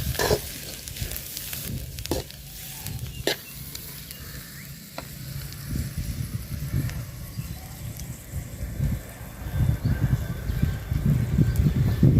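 Fish roe sizzles steadily in a hot pan with onion during stir-frying, a close, continuous crackle that grows busier toward the end, with occasional scraping and stirring.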